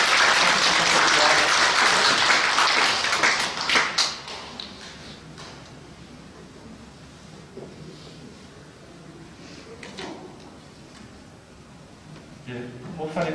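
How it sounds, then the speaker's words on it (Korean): A room full of people at a church service claps loudly for about four seconds, then the applause dies away into quieter room noise with scattered taps. "등록의 축하 또 경례의 박수 한번 하겠습니다."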